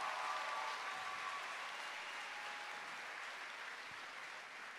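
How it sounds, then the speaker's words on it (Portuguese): A church congregation claps in a soft, distant wash of applause that holds steady for a few seconds before fading slightly, with no clear voices above it. "Pode aplaudir, pode aplaudir."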